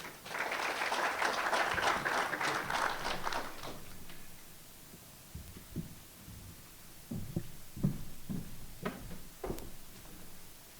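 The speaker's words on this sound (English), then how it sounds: "a round of applause, please, for Mr. John Vincent from Kariba" Audience applause for a speaker being introduced at a conference session, a dense burst of clapping for about four seconds that fades, followed by scattered faint taps and knocks in a quiet hall.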